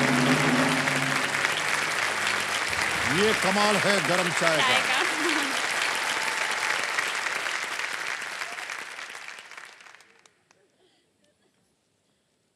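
A game-show studio audience claps loudly and continuously, a dense close wash of applause that fades out toward the end, with someone speaking briefly over it.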